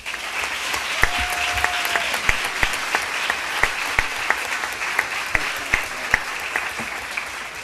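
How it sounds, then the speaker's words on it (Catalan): A crowd applauds the fair queen at a town proclamation ceremony, continuous steady clapping with a few sharp individual claps standing out close by, sustained evenly throughout. "Demane per favor un fort aplaudiment."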